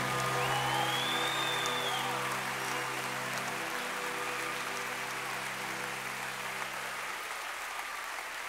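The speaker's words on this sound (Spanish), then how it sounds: "dale ese aplauso más fuerte" Sustained audience applause fills a church-style worship concert, a broad steady wash of clapping with a low sustained musical tone underneath that fades out toward the end.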